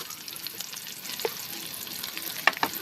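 Onions fry in a pan for a chicken gizzard and string bean dish, giving a steady crackling sizzle with light stirring clicks and a couple of small pops. It is moderately close, with no talking.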